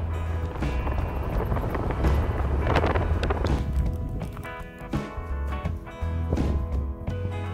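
Breezy wind buffets the microphone outdoors in Glacier National Park on a sunny day, a steady loud rumble with gusts swelling and easing throughout, alone with no talk.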